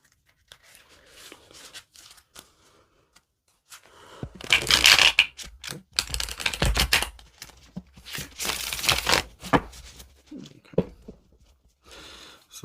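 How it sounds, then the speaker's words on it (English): Tarot Del Toro cards, a matte, non-glossy tarot deck, being shuffled by hand: scattered soft taps, then loud crisp riffle bursts and ruffling flutters, close up with no talking. "Let's do one more little shuffle."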